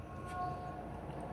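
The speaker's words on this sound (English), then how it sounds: "And a train." A train passes in a video game during a police chase, a steady faint rumble with a thin sustained tone over it, heard alone across the short moment.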